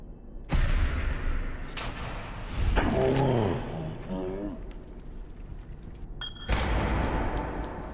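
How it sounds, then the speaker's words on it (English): A few sharp, loud gunshots from Fallout 4 crack out across a combat space and echo with long decay, with warbling, insect-like game sounds between them. "I had the safety of range, so took my chance and opened fire"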